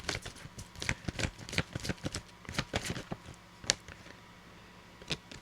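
A deck of tarot-style reading cards is shuffled by hand, giving quick irregular riffling flicks and taps close by, with no voice present.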